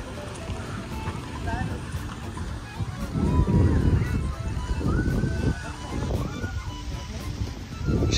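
Sea waves wash onto a sandy beach at a Hurghada hotel, a steady broad rush with surges around the middle, mixed with wind buffeting the microphone and distant voices in the background.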